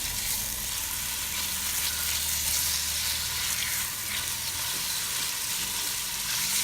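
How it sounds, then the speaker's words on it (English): Sliced onion fries in a pan with a dense, even sizzle that stays up close and constant throughout, without any voices. "I've got 1 onion that I've sliced and I'm going to get this nice and translucent"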